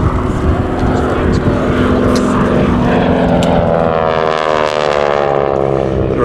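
A T-6 Texan propeller aircraft, also known as the SNJ, flying past with a loud, continuous radial-engine drone and buzzing propeller tone that shifts in pitch as it passes, with a voice talking underneath.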